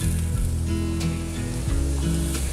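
Onion and poblano pepper sizzling loudly in meat drippings in a pan for chili, a dense continuous close frying hiss with a low hum beneath it.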